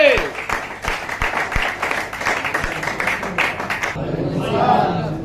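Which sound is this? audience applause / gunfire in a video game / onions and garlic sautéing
audience applause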